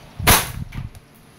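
A WE Hi-Capa T-Rex airsoft pistol fires a single semi-automatic shot, a loud sharp crack up close with a short mechanical rattle after it.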